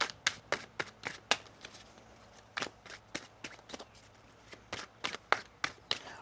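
Tarot cards are shuffled by hand close up in a quiet room, giving quick riffling bursts in irregular clusters with brief pauses between them.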